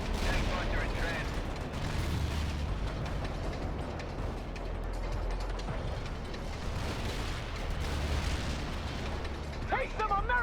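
Artillery explosions in the battle game World in Conflict rumble as a dense, continuous barrage with heavy low booms and mechanical clatter, while radio voices speak over it.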